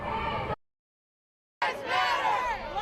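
A large crowd of protesters at a Black Lives Matter rally in Rochester shouts and chants, loud bursts at the start and again after a short silent gap.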